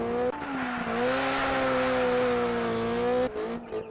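A Ford Fiesta rally car screams past at full throttle on a city-street rally stage, its loud engine holding a high, steady drone before cutting off, with little else around it.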